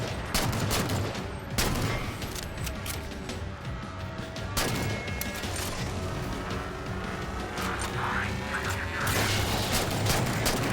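Rapid turret gunfire in the Halo game Spartan Ops on Legendary difficulty, a dense, steady barrage of shots with booming impacts running throughout, loud and continuous with no speech over it.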